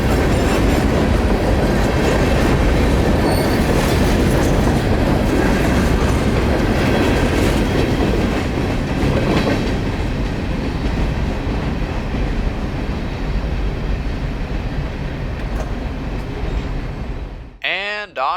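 A train rolls across a bridge on newly laid rails, a steady loud rumble with faint clickety-clack from the wheels that holds for most of the stretch and then breaks off abruptly near the end.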